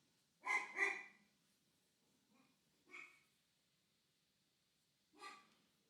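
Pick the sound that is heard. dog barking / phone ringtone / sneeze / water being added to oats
dog barking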